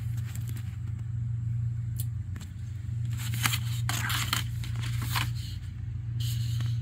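Scissors or a blade cut through a postcard up close in a quiet room, giving scattered crisp snips and scraping sounds over a steady low hum, with no talking.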